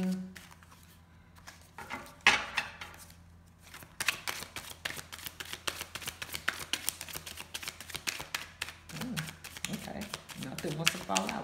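A deck of tarot cards shuffled by hand nearby, giving quick rapid riffling flutters and soft taps in bursts, with a few brief moments of talk mixed in.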